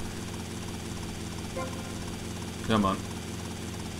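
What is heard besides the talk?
Sparrow helicopter flying in Grand Theft Auto Vice City video game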